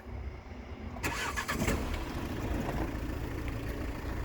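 A car engine cranks and catches at about one second, then settles into a steady idle close by.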